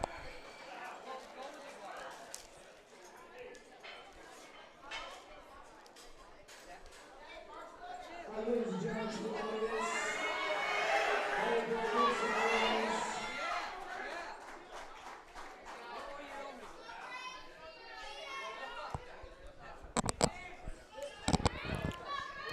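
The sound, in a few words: crowd cheering for a lifter at a powerlifting meet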